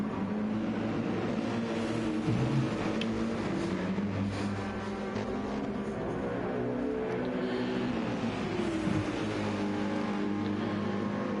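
Formula 1 cars, a Ferrari and two Mercedes, racing in close slipstream at the Red Bull Ring, their high engines droning steadily with rising and falling pitch as they pass, a continuous loud roar with no voices.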